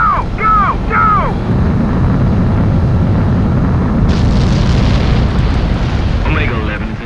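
An Ace Combat 7 fighter jet's catapult launch from an aircraft carrier, a loud, continuous roar and rumble of engines that rises sharply partway through, with short whistling tones at the start and near the end.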